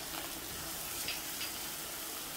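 Onion and ginger-garlic paste frying in a pan while being cooked for egg bhurji, a steady dense sizzle that stays loud and even throughout with no talking.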